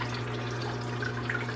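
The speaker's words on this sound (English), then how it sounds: "this PVC, it just shoots water and it's hitting the roots" Water sprays steadily from a PVC pipe onto plant roots inside a hydroponic grow tower, a continuous close hiss and patter with a low steady hum beneath, no voices.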